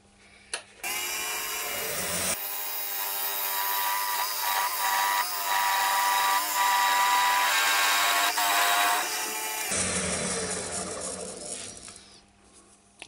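A wood lathe skims a smoothing cut across the saw-marked base of a turned wooden pork pie pot, a loud continuous whirring hum with scraping texture that starts abruptly and stops after about nine seconds, then a fading spin-down.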